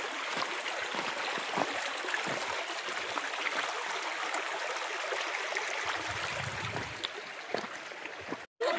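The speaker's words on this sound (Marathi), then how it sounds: "खळखळ वाहणारं पाणी." Babbling stream water flowing steadily along a forest pilgrimage path, a continuous close rushing and trickling wash with a brief break near the end.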